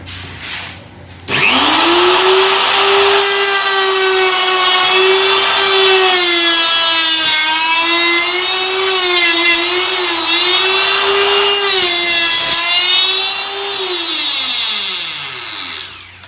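A router cuts mortise and tenon joints in 25mm and 50mm timber with a loud, close, sustained high whine that stays steady for about fourteen seconds, with slight pitch shifts under load, before spinning down.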